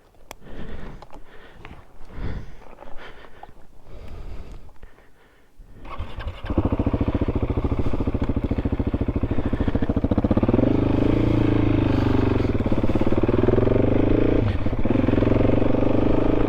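A 2024 KTM 690 SMC R motorcycle: light clattering and handling noises, then the single-cylinder engine fires up and settles into a loud, steady, throbbing run that continues to the end.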